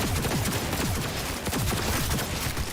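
Dense, continuous gunfire rips through a video game fight against robots in Night City, with rapid overlapping shots and a rumbling low end that keep a loud, unbroken barrage going throughout.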